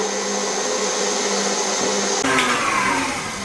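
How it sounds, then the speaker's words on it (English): An electric mixer fitted with a whisk attachment beats eggs for a lemon Swiss roll cake, giving a steady, loud motor whine with no break. Near the end the tone shifts as the whisk changes pitch. "I've got my whisk attachment on because we need to more or less double the size, if not more."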